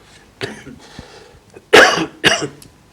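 A few scattered throat sounds, then two loud, sharp coughs close to the listener, spaced about half a second apart.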